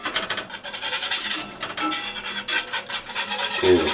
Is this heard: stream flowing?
no